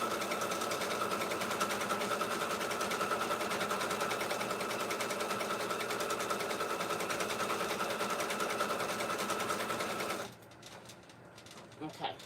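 A sewing machine stitches the hole for an inhaler opening, humming fast and steadily for about ten seconds, then stopping abruptly and leaving a few soft clicks and handling sounds behind.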